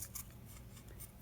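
Scissors snipping through crocheted lace in a few quick, close, faint cuts over a steady low background hum.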